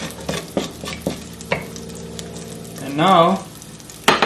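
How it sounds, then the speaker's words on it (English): Crushed whole spices and black peppercorns frying in oil for a dum aloo, with a steady low sizzle, sharp scraping stirs, and a brief louder burst of bubbling late on; a voice speaks briefly over it. "black peppercorn. Here, and let this fry for like 30 seconds"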